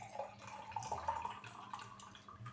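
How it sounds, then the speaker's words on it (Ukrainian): Iced black tea with mango juice is poured into a container, making a faint, close trickling and splashing of liquid with small drips, heard alone at low volume. "Давайте наливаємо."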